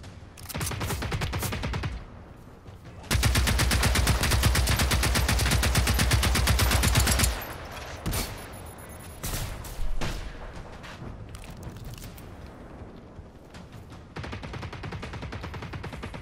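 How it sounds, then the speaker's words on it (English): Rapid gunfire in the video game Generation Zero: dense automatic bursts, one long sustained stream in the middle, then scattered single shots and shorter volleys, loud and without talk. "we are shooting"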